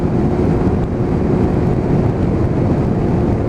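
Strong, cold wind rushes past a rider on a motorcycle in heavy traffic, a loud, unbroken broadband roar that covers the whole stretch with no speech.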